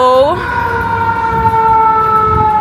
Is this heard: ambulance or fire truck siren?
yes